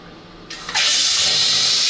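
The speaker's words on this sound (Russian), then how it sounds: "для этого включаем горячую вот эту вот воду" Hot water bursts from a tap after a short pause, gushing in a steady, loud, close stream that holds on without any talk.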